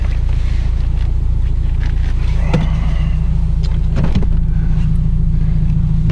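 A Subaru Impreza WRX STI powers through a turn on an ice track, a steady, loud engine drone with wind buffeting throughout and a few brief knocks or bumps near the middle and end.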